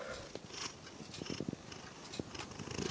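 A big cat purrs close up, a soft rumbling purr with faint breathy pulses and a few light rustles, steady throughout with no voices.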